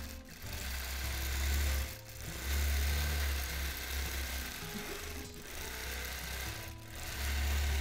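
A longarm quilting machine stitches a quilt in a freehand edge-to-edge pass, its motor humming and rattling in sustained runs broken by three brief pauses.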